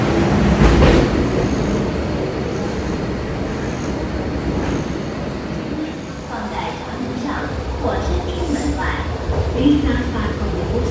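An MTR train pulls out of Kowloon Bay Station, a loud rolling rumble with a rising whine and rail clatter swelling close by, while someone talks over it.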